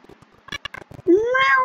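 In the video game Minecraft, a few soft clicks and shuffles lead into one clear, rising meow from a cat, loud and close.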